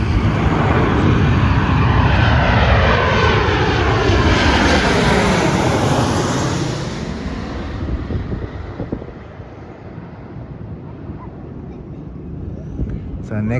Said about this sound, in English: It's a Qantas Link that's about to land.